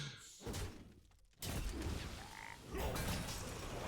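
Frogs croak in a harsh, noisy chorus that swells in bursts after a brief lull, with no voices over it.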